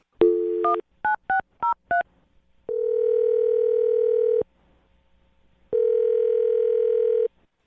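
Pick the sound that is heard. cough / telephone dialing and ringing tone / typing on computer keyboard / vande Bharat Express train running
telephone dialing and ringing tone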